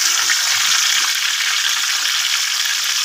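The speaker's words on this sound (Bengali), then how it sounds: "তেলটা গরম হয়ে গেছে, আমি এখন রসুনগুলো দিয়ে দিচ্ছি। রসুনগুলো দিয়ে একটু ভালো করে নাড়াচাড়া করে নেব।" Garlic sizzles loudly in hot oil in a pan, a steady dense crackle with faint stirring, close and alone throughout.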